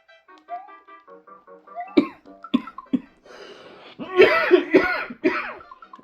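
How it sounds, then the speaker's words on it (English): A person coughs repeatedly in short harsh bursts, close to the microphone, while Super Mario Bros 3 game music and sound effects play in the background. "Sorry for coughing, guys."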